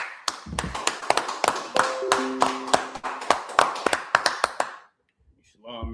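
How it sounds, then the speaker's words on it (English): Sharp, distinct hand claps ring out one after another at an uneven pace, close and crisp, mixed with sustained tones and a voice, before dropping to near silence and a faint voice at the end. "let's clap it up"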